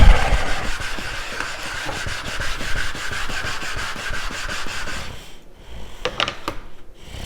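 Japanese honyaki gyuto, a 210mm Yoshikazu Ikeda blade in White #2 steel, sharpened on a 1000 grit whetstone: steady rhythmic scraping strokes back and forth for about five seconds, close up, followed by a few light knocks.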